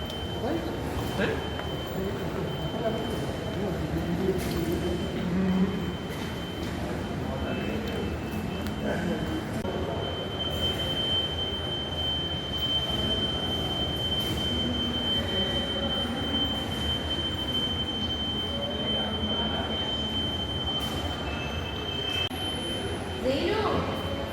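A Kochi Metro train rumbles steadily at a station, with wheels squealing over it and a thin, constant high whine running throughout.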